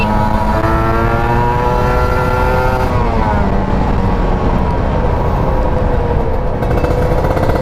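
A Suzuki RM 85 motorcycle engine fitted with an upgraded ignition coil revs up loud and close, its steady harmonic drone rising and sagging through several throttle blips with no one talking over it.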